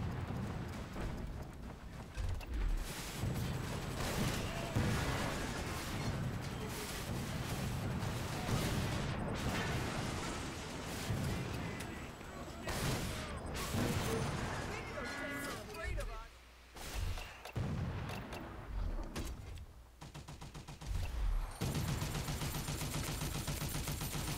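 Heavy M2 machine gun fire in the Toy Soldiers Cold War video game, dense bursts running almost continuously amid a busy battlefield mix of explosions and other game sounds, with a voice talking over it.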